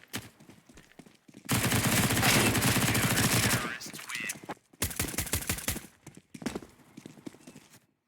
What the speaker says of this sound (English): he's shut down by the SMG in close proximity